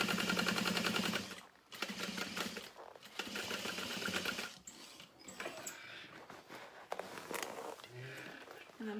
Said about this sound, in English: So we're gonna top stitch through that seam.